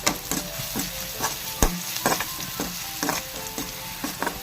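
Onion and crushed chili fry in a pan for a Kerala green bean stir-fry, with steady sizzling broken by repeated scraping stirs of a spoon, close and moderately loud.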